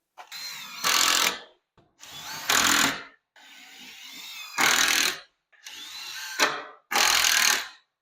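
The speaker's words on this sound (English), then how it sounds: "Go ahead and get this piece screwed in." A power drill driving screws into wood, five separate bursts, each a rising whine that turns into a loud grinding buzz as the screw bites in, then stops, with short pauses between them.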